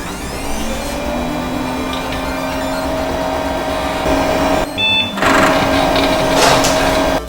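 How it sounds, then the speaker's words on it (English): Cooling fans of a 1999 desktop PC spin up at power-on into a loud, steady whirring drone with a faint high whine, continuous and close, briefly dipping and then resuming. "When we turn on the computer, that pristine, vacuum cleaner-like sound immediately fills the room."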